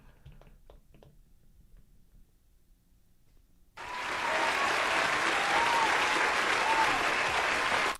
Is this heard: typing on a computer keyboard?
no